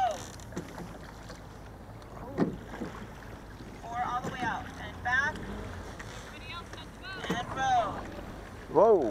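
A multi-seat crew rowing boat on flat water, with oars pulling and splashing in uneven strokes. Voices are heard under wind noise, and faint squeaks come from the boat.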